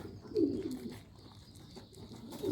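Pigeons coo softly nearby, a low throaty call rising and fading, then another beginning at the end over faint background sounds.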